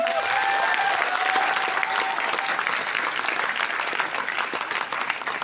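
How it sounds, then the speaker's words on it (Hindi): Loud, sustained applause from an audience at a speech event in a New Delhi hotel, dense steady clapping filling the whole stretch with a faint crowd murmur underneath. "जोरदार तालियां होनी चाहिए।"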